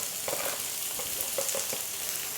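Potato masala seasoned with chaat masala and salt frying in a pan, giving a steady, close sizzle with a few soft stirring scrapes over the top, and no voices.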